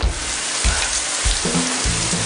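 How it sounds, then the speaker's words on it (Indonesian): Heavy rain pours down as a dense, loud, continuous hiss broken by a few low thumps, with no voices. "Ya ampun, hujannya gede bener."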